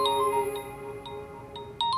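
A mobile phone rings for a work call with a bright, repeating electronic chime, close and clear, with no talking over it.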